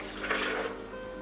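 Water poured into a blender jar over a cup of raw cashews for vegan mozzarella, a brief splashing gush that swells and then trails off, close and moderately quiet.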